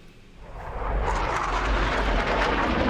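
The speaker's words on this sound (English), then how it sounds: "we can have a plane noise" Airplane sound effect from a stock library, a low engine rumble that swells quickly into a loud, broad roaring rush and holds steady.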